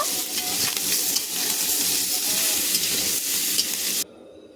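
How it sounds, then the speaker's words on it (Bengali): Large prawns fry in a pan with a loud, continuous sizzle and occasional stirring scrapes, cutting off abruptly near the end. "এরপর এখানে আমি ভেজে নিচ্ছি মাছগুলো"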